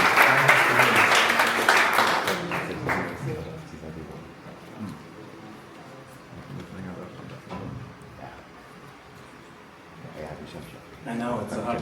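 An audience at a Berlin SaaS pitch event claps for a speaker, a burst of applause that fades after a few seconds, followed by quieter room sounds and more clapping near the end, with talking over it.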